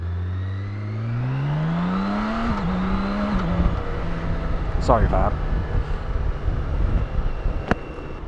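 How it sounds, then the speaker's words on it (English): A 2023 BMW K1600 Bagger motorcycle engine runs from near idle at low speed, then the throttle is dumped and the revs rise smoothly in a steady climb before settling, with wind noise and a brief spoken remark over it. "That engine is absolutely peachy. Even completely dumping the throttle, it doesn't dive or anything."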